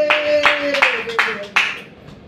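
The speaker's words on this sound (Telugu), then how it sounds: "చప్పట్లు కొట్టి దేవుడికి స్తోత్రం చెప్పండి" A church congregation claps in praise of God, five or six loud bursts in quick succession over a sustained voice tone that fades away.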